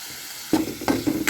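Taro stolon and dried fish curry fries in a pan, a soft sizzle broken by several short stirring scrapes after a quiet opening, close and alone.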